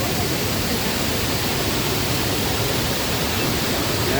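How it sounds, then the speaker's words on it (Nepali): The waterfall at Sundarijal roars as a steady, dense wash of falling water, loud and close throughout with no voices. "झरना सुन्दर जलको झरना है।"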